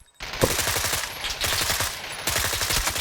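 Rapid, dense automatic gunfire from a PC shooter game, a near, loud, continuous rattle of bursts with brief gaps, no talk over it.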